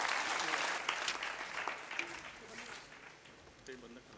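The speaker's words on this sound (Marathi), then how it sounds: "आपण त्यांचं जोरदार टाळ्या वाजवून स्वागत करावं." An audience claps to welcome Chief Minister Devendra Fadnavis at a Maharashtra University of Health Sciences event in Nashik, a loud burst of applause that gradually thins and fades while a voice speaks over it.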